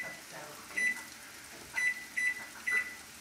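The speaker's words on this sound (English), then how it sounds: "let me put the timer on 10 minutes" A kitchen timer being set gives four short, bright electronic beeps at uneven intervals, close and clear over a quiet room, with no talking.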